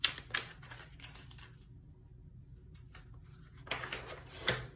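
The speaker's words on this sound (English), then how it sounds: "Really a hard shuffle for this group." Crisp riffling clicks of tarot cards being shuffled come in short bursts at the start and end, with a quiet lull between them.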